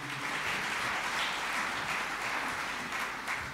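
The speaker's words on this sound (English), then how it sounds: "give them a round of applause one more time." Church congregation applauding at a worship service, a steady wash of clapping that stays even and fairly loud throughout, with no voices over it.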